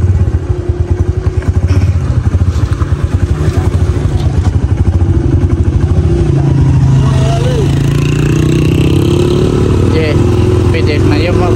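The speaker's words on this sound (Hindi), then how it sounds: "ये फिर इजीली मोटरसाइकिल जो है ना वो ऊपर की तरफ चला जाता है" A motorcycle engine labors uphill on a mountain road near Ganga Choti, Azad Kashmir, its rapid thumping putter loud and close, the pitch rising and straining as it climbs, with someone talking over it throughout.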